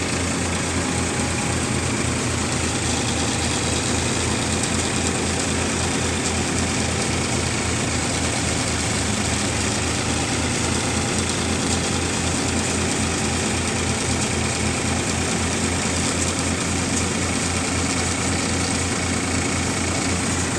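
A Tech Champion 42 tractor with about 2,384 hours drives a Param basket-model thresher, a loud, constant mechanical drone with a throbbing low engine pulse running nonstop nearby, no voices.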